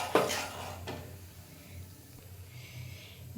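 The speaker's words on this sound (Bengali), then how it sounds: "কড়ার মধ্যে কিশমিশ আর সুজিটা দিয়ে এবারে ভেজে নেব" Semolina and raisins being stirred as they fry in a pan, with a sharp clatter of a spoon against the pan near the start, then soft scraping and a low, steady sizzle.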